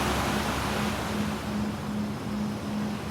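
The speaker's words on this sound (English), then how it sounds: "enjoy the calming sounds of the ocean" Calming ocean waves wash in a continuous loud surf roar, steady and close, with a faint low pulsing hum underneath.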